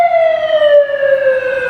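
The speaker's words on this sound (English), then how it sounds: "there's a siren" An emergency vehicle siren wails outside a New York City apartment as one long, loud, steady tone with a slow downward pitch drift, with no talk over it.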